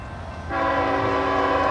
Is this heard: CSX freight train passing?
yes